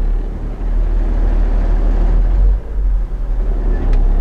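A 2000 International Blue Bird school bus engine drones loud and close in granny low through its six-speed Spicer manual gearbox, a steady deep rumble that dips briefly twice.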